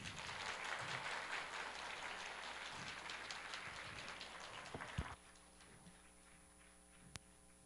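A church congregation at a combined-generation worship service applauds, a quiet, distant wash of clapping that goes on for about five seconds and then cuts off, leaving a low hum.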